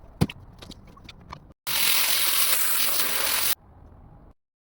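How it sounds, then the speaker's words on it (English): Raw wool samples being washed and rinsed in water, with scattered soft clicks and handling noises, then a loud steady rush of running water for about two seconds before quieter sloshing. "let's speed through the washing and rinsing processes for the 4 samples"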